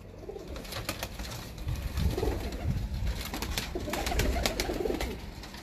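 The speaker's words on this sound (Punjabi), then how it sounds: "ਲਓ ਜੀ ਇਹ ਕਬੂਤਰੀ ਲਾਈ ਉਸਤਾਦਾਂ ਨੇ ਨਾਲ।" Pet breeder pigeons coo softly and repeatedly in a loft, their low throaty calls rising and falling over a steady background hum, with no voices.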